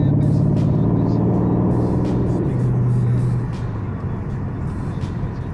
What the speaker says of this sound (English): Get up to speed a little bit here so you can hear the exhaust.